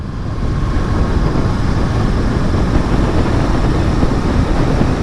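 Royal Enfield motorcycle cruising in sixth gear, with a steady low engine drone blended into heavy wind and road rush, continuous and loud throughout with no talk.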